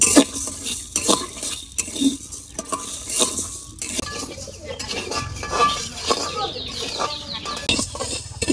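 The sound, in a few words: red lentils being dry-roasted and stirred in a wok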